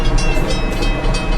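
A Metra commuter train's horn blares loud and sustained over the rumble of the train on the Aurora to Chicago line in a train simulator game.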